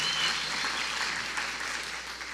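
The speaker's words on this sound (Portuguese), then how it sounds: "Uma salva de palmas para a galera da mesa de som." A church audience gives a brief round of applause for the sound desk crew, a steady wash of clapping that fades slightly over about two seconds.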